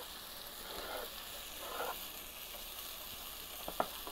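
Cilantro, mint leaves, green onion and green chili fry in a pan with a gentle, steady sizzle, broken by a couple of soft stirring swishes and a sharp clink near the end, quiet and close.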